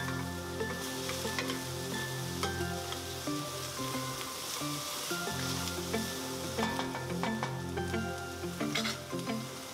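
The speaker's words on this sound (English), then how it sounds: "we're just gonna saute this for a few minutes until the onion is translucent and you soften the carrot just a little bit" Chopped onion and carrot sauté in a hot pan for hibachi-style fried rice, giving a steady, close sizzle with occasional stirring scrapes throughout and no talking.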